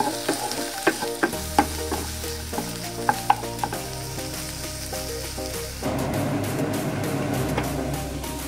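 Onion and tomato sauté in a hot pan with a steady close sizzle, punctuated by sharp clicks of a spoon stirring against the pan, the frying growing fuller near the end.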